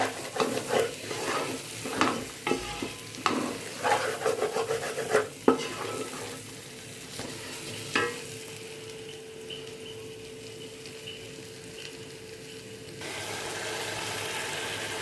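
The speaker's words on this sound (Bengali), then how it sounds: "মশলাটা কষানো হয়ে গেছে, তেল তেল উপরে উঠে গেছে।" Spice masala for chicken kosha frying in oil, with repeated close scraping stirs over a steady sizzle, then a quieter, continuous hiss once the stirring stops.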